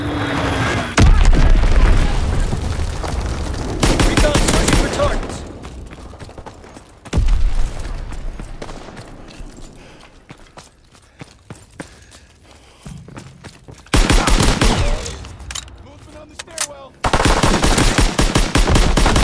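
Machine pistol and M1 Carbine fire in Call of Duty: WWII, loud bursts of automatic gunfire and booming shots in several clusters, separated by quieter stretches with footsteps and distant combat.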